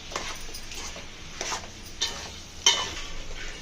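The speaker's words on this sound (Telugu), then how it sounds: "సాల్ట్ యాడ్ చేసుకొని కలుపుకోవాలి" Tomatoes and salt being stirred in a pan for chicken curry, with a soft background sizzle under a few faint scrapes of a spoon against the pan, heard alone at close range.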